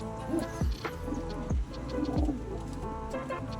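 Pigeons coo softly several times, low rounded calls repeating at an unhurried pace, fairly close.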